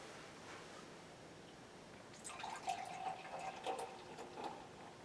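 Terrapin Mosaic beer poured into a glass, starting after a quiet moment with a splashing, fizzing pour that gurgles unevenly for a few seconds, close and fairly soft, with no talking.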